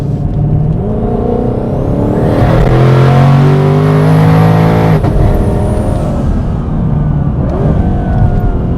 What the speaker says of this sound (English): I'm just gonna get on it right here a little bit, see if we hear the turbos